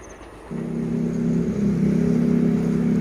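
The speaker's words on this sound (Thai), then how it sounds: "มีรถไฟมาแล้วนะครับ" A heavy train engine drone, from the Yala–Bangkok Aphiwat express train 170 on a Thai double-track line, rises out of the background and holds as a deep, steady rumble with a humming tone, growing slightly louder as it nears.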